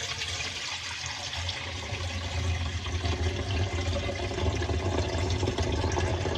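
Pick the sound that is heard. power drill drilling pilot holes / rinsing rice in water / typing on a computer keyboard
rinsing rice in water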